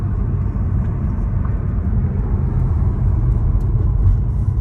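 Car accelerating hard on the road in Tasmania, a loud, steady, close engine and road rumble filling the cabin without letup.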